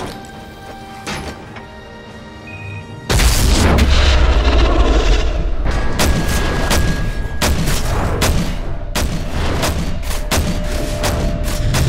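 A door-breach explosion in Call of Duty: Modern Warfare 3 erupts with a loud, sudden boom, followed by a sustained barrage of close, rapid gunfire and crashing impacts continuing to the end.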